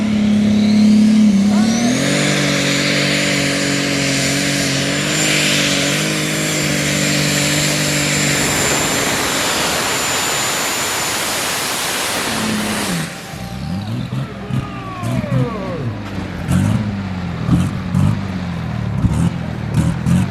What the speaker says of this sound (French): Équipé d'un moteur Alki édition DAF 1260 XL V8 sur lequel il est venu greffer ses turbos